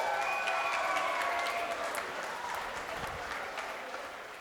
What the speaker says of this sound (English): Let's hear it for our groom. Nice big round of applause for George.